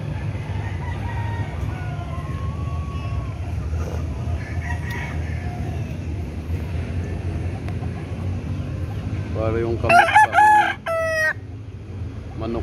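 A rooster at a backyard poultry coop crows loudly in a short, broken burst near the end, over steady low rumbling background noise and murmuring, with a brief spoken phrase.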